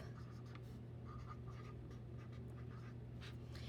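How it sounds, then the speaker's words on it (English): Marker scratching across an anchor chart as a math aid is written out, faint, steady strokes against a low background hum, with brief pauses between words. "I am going to write down this right here one more time at the very top"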